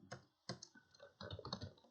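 Computer keyboard keys are struck in a few quick, close clicks, short taps and a small burst, as a Ctrl S save shortcut is pressed, quiet and with no voice.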